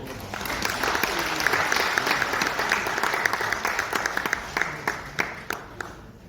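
Lively applause from an audience at an international academic forum and launch ceremony at Lotte Hotel Seoul, a dense roar of many hands that thins into scattered individual claps and fades toward the end.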